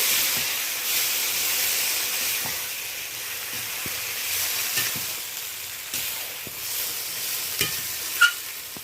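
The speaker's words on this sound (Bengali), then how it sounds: "তারপর এই যে ভালোভাবে একটু মিশিয়ে নিচ্ছি।" Ridge gourd is stirred and mixed in a pan for a poppy seed dish, a constant hissing sizzle broken by scattered soft clicks and scrapes of the spoon.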